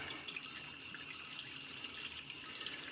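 Tap water runs steadily over a used double-edge razor blade from a Star Super Six razor as it is rinsed at a sink, a close, continuous hiss with light splashing and no voices.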